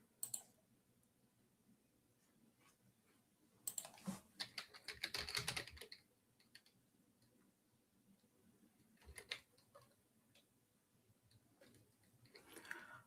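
Computer mouse buttons click in scattered bursts, several rapid clicks clustered together with quieter gaps between, sounding close and crisp against a faint background.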